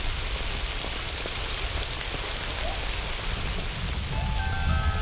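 Steady heavy rainy-season rain hisses on the ground at the edge of the desert in Shaba, a dense continuous wash of drops, with a faint tonal hum creeping in near the end.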